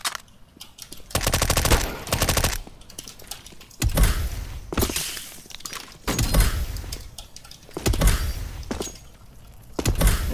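Gunfire in the battle royale game Danger Zone: several loud bursts of rapid automatic fire and single shots in clusters, echoing and close, with short gaps between volleys.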